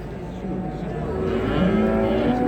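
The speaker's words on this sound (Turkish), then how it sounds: "Bu inekler kimin acaba ya?" Low, drawn-out cattle moos rise over a busy outdoor background at a livestock market in Çorum, Turkey, several animals calling at close range with faint voices nearby.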